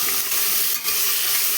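Onions, green chillies and curry leaves fry hard in a pan for mushroom biryani, a dense, loud, continuous sizzle with no pauses over a brief stretch.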